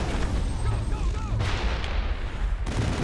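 Loud biotic blast during combat in the Mass Effect video game, a dense booming burst that fills the whole moment with rumbling, crackling energy and continuous battle noise.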